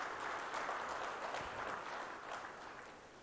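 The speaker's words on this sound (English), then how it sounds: "Please give them another round of applause for that." Applause from an audience at the India Today South Conclave, a broad, steady wash of clapping that holds for a few seconds and fades slightly toward the end.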